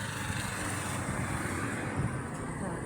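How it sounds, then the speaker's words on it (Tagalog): Steady roadside traffic noise from many passing cars and motor vehicles on a busy street where a pedestrian with a dog waits to cross, a continuous broadband rumble throughout, fairly close and even in level. "Dami sasakyan."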